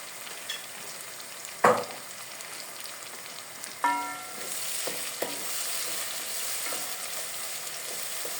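Steady sizzling of onion, tomato paste and chopped tomatoes and peppers frying in a hot pan, with a few sharp clinks and scrapes of a utensil against the pan.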